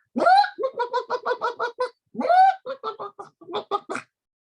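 A voice imitates a chicken clucking: a rising squawk followed by a rapid string of short clucks, repeated twice, close and clear.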